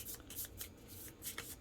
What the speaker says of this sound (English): right now I'm going to shuffle these cards